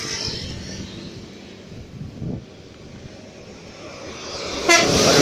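Tourist bus at Ciawi, Tasikmalaya passing with a low rumbling engine that swells midway, then a brief loud horn blast near the end over background road noise.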